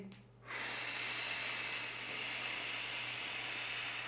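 A slow deep breathing exercise: a long, steady, close breath of airy rushing sound starts about half a second in and holds evenly to the end, with no talk.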